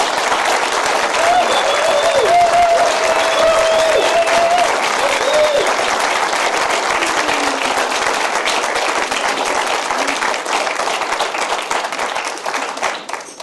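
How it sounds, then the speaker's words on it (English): An audience at a board of supervisors meeting applauds social workers, with dense, sustained clapping that holds steady and then tapers off toward the end. "I want all of you that are social workers here to stand up so we can applaud you."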